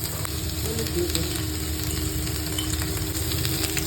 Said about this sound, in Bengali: এবার তেলে ভাজবো ঝিঙেটা আমি এবার এই তেলের মধ্যে দিয়ে দিলাম